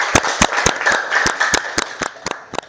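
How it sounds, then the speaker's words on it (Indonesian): Students in a classroom clap their hands in sharp, evenly spaced claps that are close and fairly loud. "Tepuk tangan dulu untuk semuanya."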